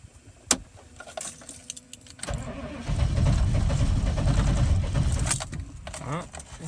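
A 1995 Chevy K1500 with a 6.5 turbo diesel cranks in the cold, keys jangling first, then a steady grinding starter run of several seconds that fails to catch before cutting off.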